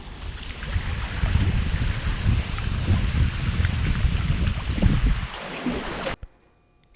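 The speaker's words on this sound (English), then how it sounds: "It's very windy." Strong wind at Center Hill Lake, Edgar Evins State Park, roars and buffets loudly across the microphone for several seconds, then cuts off abruptly near the end.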